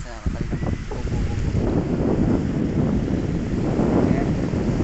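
Strong wind buffets the microphone steadily near boats moored in Pagkakis, a loud continuous roar with low rumbling gusts throughout.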